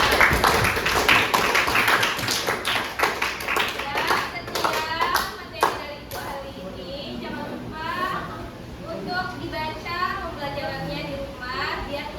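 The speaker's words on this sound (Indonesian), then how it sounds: "Berarti tepuk tangan untuk kita semua." A class of vocational school students claps together in quick, loud bursts for several seconds, then the clapping fades as children's voices chatter in the classroom.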